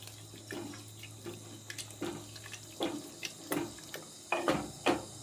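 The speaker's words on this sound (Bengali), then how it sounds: "এইবার সামান্য জল দিয়ে এটাকে অল্প একটু নেড়ে নিতে হবে" Water is poured into ghugni in a pan and stirred, making soft splashes and wet scraping swirls at irregular intervals over a low steady kitchen hum.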